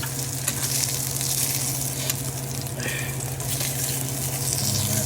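Basa fish fillets frying in hot oil, a steady dense sizzle and crackle heard close up with no pauses.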